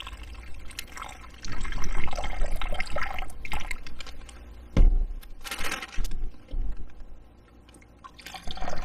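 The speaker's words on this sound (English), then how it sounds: "I'm just going to pour this water in here and mix this up" Water poured into an MRE pouch and stirred, a steady close trickle and splash of liquid with crinkling pouch sounds and a sharp rustle midway, fading quieter near the end.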